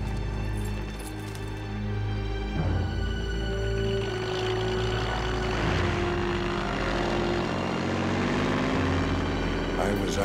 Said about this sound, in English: The crop duster circled over my dead car like a giant silver vulture.